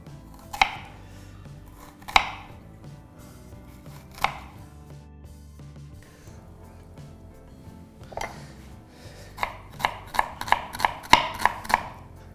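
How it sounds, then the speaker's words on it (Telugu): A knife chops onions on a board for a salad, at first a few sharp isolated cuts spaced seconds apart, then a quick run of rhythmic chops near the end, close and distinct. "ఉల్లిపాయలు అలా సాలెడ్లా కట్ చేసి దీంతో పాటు వడ్డిద్దాం."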